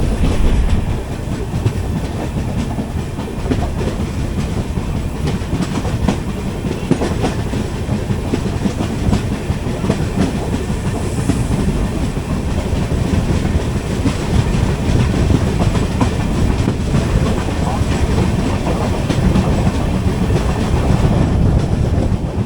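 The 16381 Pune Kanniyakumari Express, heard from inside an AC Economy coach between Palakkad and Kanniyakumari, rolls along the rails with a loud, steady rumble and continuous clickety-clack of wheels over rail joints, with no voices.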